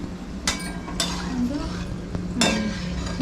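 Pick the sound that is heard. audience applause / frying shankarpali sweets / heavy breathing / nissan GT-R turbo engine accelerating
frying shankarpali sweets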